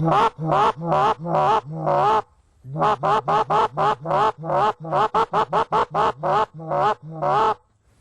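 A reversed goose call sounding a goose murmur, a run of short, low, throaty notes in quick rhythmic bursts, close and fairly loud, with a brief pause partway through.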